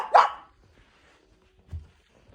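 A puppy gives one sharp, loud bark up close, then a short pause and a softer low sound, with quiet in between.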